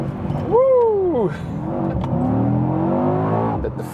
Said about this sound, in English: Hey, my car accelerates that hard.